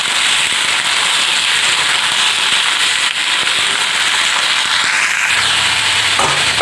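Potatoes and carrots with other vegetables frying in a pan, giving a dense, steady sizzle and crackle that stays loud and close throughout.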